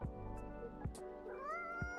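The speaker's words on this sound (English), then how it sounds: "The cat does the voice acting for us." A cat meows in the café video game Coffee Talk, several drawn-out, wavering meows with bright harmonics, close and clear over steady game background music.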